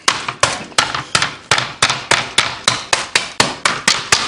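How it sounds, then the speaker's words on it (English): A hammer bashes Oreo cookies in a steady run of about a dozen sharp, loud strikes, one roughly every third of a second, each a crisp close impact with a short decay and no voices. "Smashing some Oreos up."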